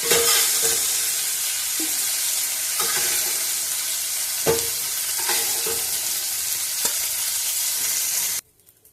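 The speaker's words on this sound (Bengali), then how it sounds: "চিংড়ি মাছটা আমার ভাজা হয়ে গেছে" Prawns frying in hot oil in a wok give a loud, steady sizzle with scattered stirring scrapes and clicks, the sizzling suddenly cutting off near the end.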